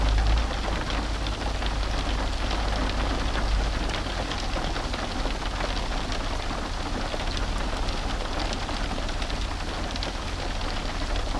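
Hail pelts a car roof and the camera covers around a fishing spot in a steady, dense patter of tiny hits, continuous and fairly loud throughout, with no voices.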